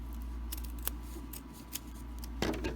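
Scissors snip several times in quick, uneven succession, close and fairly quiet over a low steady hum.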